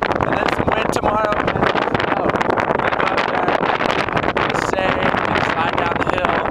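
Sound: strong wind on Mount Adams

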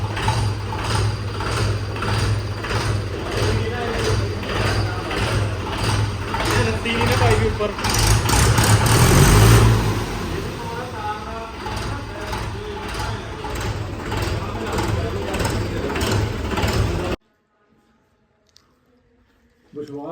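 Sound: tractor engine idling

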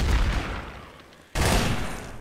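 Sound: gunfire in video game Gmod Trouble in Terrorist Town

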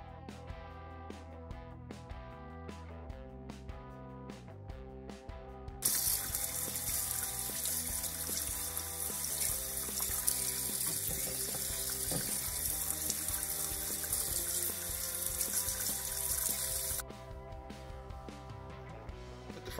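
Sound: washing bear's tooth mushroom under running tap water

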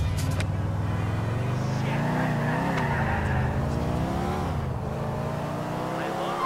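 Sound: car being driven in GTA IV video game

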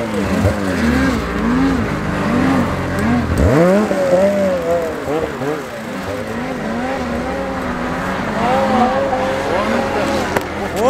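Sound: BRP Ski-Doo Summit 850X snowmobile engine riding

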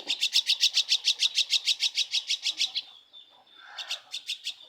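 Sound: baby myna bird chirping while being fed

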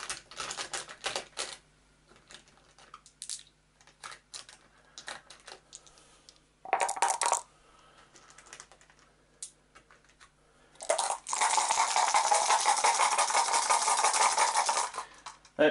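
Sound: rolling seven dice for a board game

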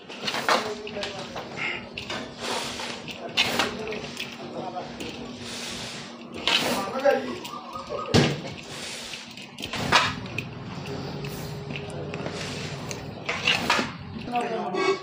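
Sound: mixing spice masala in a bowl for vada pav

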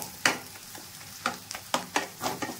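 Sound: stirring chichinga (snake gourd) batter frying in pan

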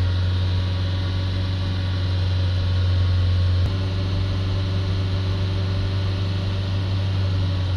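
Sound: car engine held at high revs

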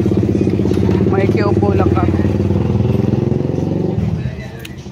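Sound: motorized tricycle engine passing

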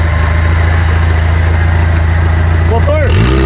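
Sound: off-road jeep engine running

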